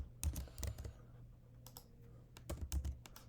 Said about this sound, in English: So of course, I can also write that code.